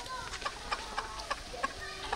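Chickens cluck nearby at an outdoor barbecue after rain, a series of short, faint clucks spaced irregularly over a soft background.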